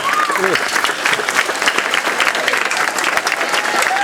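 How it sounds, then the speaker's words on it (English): An audience applauds Miss Marsh, a staff member honored at Wilson school, with steady, dense clapping throughout and a few voices calling out over it. "Let's give Miss Marsh a round of applause for everything that she does for us here at Wilson"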